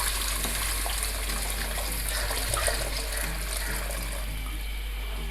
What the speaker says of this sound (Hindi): अब मैं इसमें पानी ऐड करने लगी हूँ।